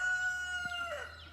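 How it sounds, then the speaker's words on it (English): A rooster crows once at moderate distance, a short rising-then-falling call standing alone with no voices over it. "Much more roosters."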